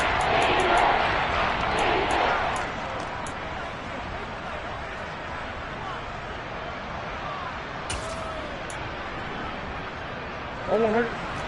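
Stadium crowd at a football game roars loudly at first, then settles into a sustained distant murmur of cheering under a commentator's voice, with a brief whistle-like burst near the end.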